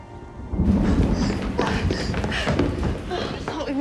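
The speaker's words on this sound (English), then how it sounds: "I thought we would never escape the rain." Heavy rain pours in a film scene, with a loud rumble of thunder rolling in after a quiet start and a continuous dense hiss of falling water.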